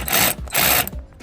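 An impact gun spins a 10mm bolt off a turbo inlet on a Hyundai Kona N, two loud close bursts of whirring rattle separated by a short pause, with no talking.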